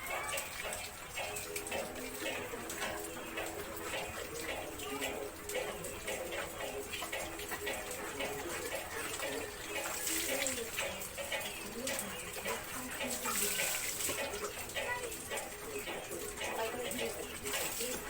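Rain water splashes and pours steadily nearby as people bathe in it and talk over it, with pigeons cooing softly in the background.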